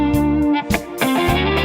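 A clean electric guitar with no effects plays part of a solo, loud sustained bent notes with a brief gap between phrases.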